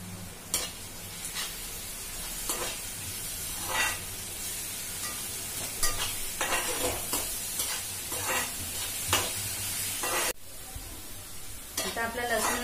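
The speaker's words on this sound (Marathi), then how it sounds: "आता आपला लसूणही छान पैकी याच्यामध्ये मस्त फ्राय झालेला आहे।" Onion and garlic fry in a pan with a continuous close sizzle, broken by repeated scraping strokes of a spatula as the mixture is stirred, with no talking.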